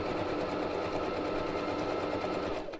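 Sewing machine running steadily at speed for several seconds, a fast, even mechanical whir and rattle close by, stopping right at the end.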